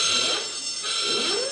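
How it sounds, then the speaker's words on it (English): A quiz buzzer sounds in a sustained, bright electronic tone lasting the whole moment, loud and alone with no talking. "I can't believe I got a buzzer"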